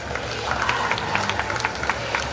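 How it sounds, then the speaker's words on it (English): Applause fills a gym for wrestlers and coaches after a state playoff wrestling meet between Corry Area and McGuffey, a dense, steady patter of clapping from the crowd. "Let's give all these wrestlers and coaches a round of applause."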